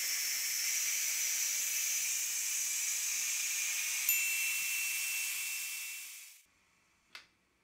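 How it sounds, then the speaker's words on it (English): A pressure cooker used to soften corn for carp and catfish bait vents steam in a loud, steady hiss that fades out after about six seconds, followed by a single sharp click. "Once the timer ends, it's time to release the pressure."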